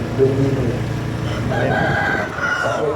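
A rooster crows a drawn-out call against steady outdoor background noise at a cattle show in a Thai army camp, fairly clear but not very close.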